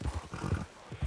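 Horse hooves clip-clopping in Red Dead Redemption 2, a quick run of close, loud thuds in an uneven gallop rhythm over about a second, with no talk.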